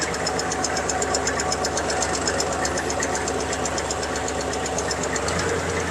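A Kubota GL-27 tractor engine runs steadily up close, giving a continuous rhythmic diesel knocking and chugging that shifts slightly in tone near the end.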